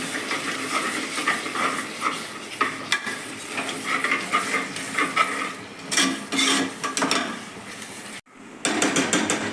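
Cooking nearby while chicken biryani is being prepared: a steady run of scraping stirs and frying sizzle with metallic clinks, moderately loud, continuing for several seconds, cut by one short silent gap near the end.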